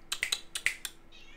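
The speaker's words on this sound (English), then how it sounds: "I knew a cat was back there." A pet cat meows in a short run of quick, bright, close calls, about six chirpy bursts within a second and a half, in a quiet room.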